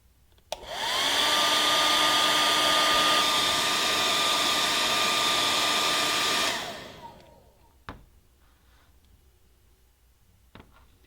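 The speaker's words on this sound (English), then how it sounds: "with our heat gun or our hairdryer, we will heat our Teflon base until it is warm to touch" A hair dryer runs loud and steady for about six seconds with a constant whirring hum, heating a Teflon (PTFE) base, then switches off, leaving a few faint clicks.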